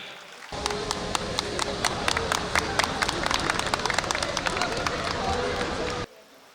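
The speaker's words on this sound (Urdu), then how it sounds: "سر غیور کے لیے بہت سی تالیاں" Brisk applause breaks out at an alumni reunion for an honoured guest, close and fairly loud, with distinct individual claps punching through a dense crowd clatter for about five and a half seconds before stopping sharply.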